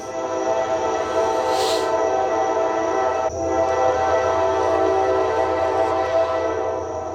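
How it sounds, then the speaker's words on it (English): A train rolls past very close at night, a loud, steady rumble and roar with clanking wheels that fills the whole stretch, and a brief whistle-like hiss rises partway through. "We're having a surprise guest appearance from the train."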